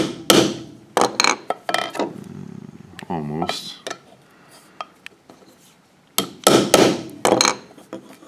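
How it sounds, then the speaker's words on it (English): Several sharp hammer strikes punch through wood in uneven bursts while building a canjo, loud and close, with a few clinks and a brief word spoken between blows. "you can take a hammer and you can just punch right through that"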